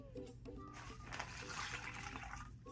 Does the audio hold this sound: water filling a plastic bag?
yes